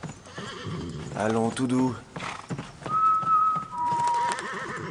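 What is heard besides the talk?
horse neighing and hooves clip-clopping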